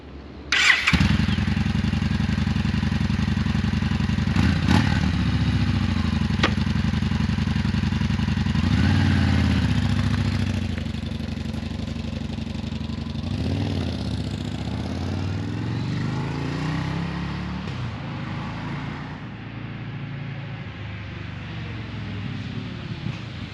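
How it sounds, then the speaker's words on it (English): A Yamaha SCR950 motorcycle engine starts with a sharp catch and then settles into a steady, close, loud idle that drops slightly in level midway and keeps running to the end, with no speech. "With the bike running and now up to temperature"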